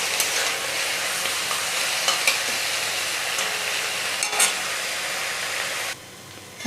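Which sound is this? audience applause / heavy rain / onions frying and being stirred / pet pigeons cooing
onions frying and being stirred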